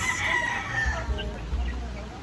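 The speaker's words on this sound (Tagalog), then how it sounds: "Daming manok dito na inalagaan guys. Oh. Native chickens." Several native chickens crow and cluck nearby, with overlapping calls against a steady outdoor background.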